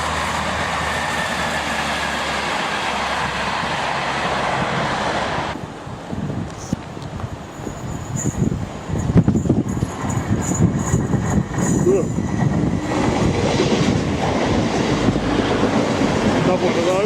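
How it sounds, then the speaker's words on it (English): A train rumbles through a single-platform station in the South Pennines with rushing wind noise and rhythmic clattering over the rails, loud and close for most of the stretch, with voices talking. "Train coming past."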